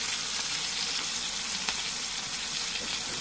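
Homemade hamburger patties frying in a pan, a loud, dense and continuous sizzle close up, with no voices.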